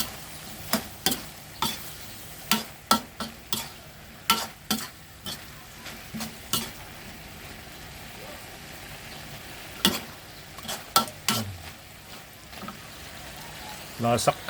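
A spatula stirs a pork and long bean stir-fry with a little sugar in a hot pan, giving sharp clanking scrapes in quick bursts over a soft sizzle, close and clear.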